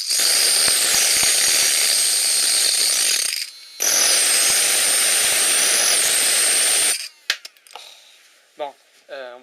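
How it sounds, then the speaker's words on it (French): Two electric motors spin together with a generator added, a loud high whirring drone that cuts out briefly and then stops, followed by clicks and short spinning-down whines. "les deux moteurs se mettent à tourner l'un avec l'autre et je rajoute le générateur"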